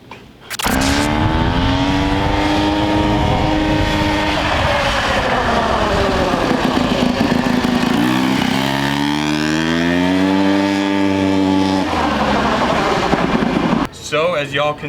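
A turbocharged rotary engine on an ATV cranks, catches and then revs hard and loud nearby, its pitch sweeping up and down through several throttle blips before the engine cuts out abruptly near the end.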